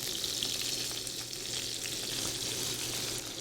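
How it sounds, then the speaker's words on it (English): Zucchini sizzles in a hot pan beside seared Canadian halibut, an even, continuous crackling hiss at moderate volume with no voices. "Now that the zucchini's been in the pan for a minute or two"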